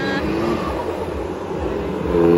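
A diesel car at an autocross event revs with a loud, rough engine roar that holds steady and swells near the end, heard close and alone over a brief span.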